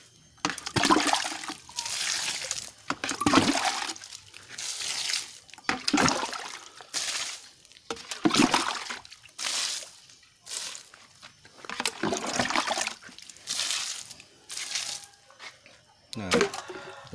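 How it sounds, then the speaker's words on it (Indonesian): Liquid JMS fertilizer is poured from a container onto garden plants, about four liters per plant, in repeated gushing bursts of splashing water. A person talks between pours. "Jadi kira kita siram JMS dulu."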